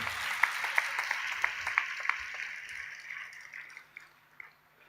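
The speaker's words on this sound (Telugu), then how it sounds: "చప్పట్లు కొట్టి దేవుని మహిమపరుద్దామా?" A church congregation claps hands together in worship, a quick series of sharp claps that builds briefly and then thins into scattered, fading hand strikes over a reverberant hall.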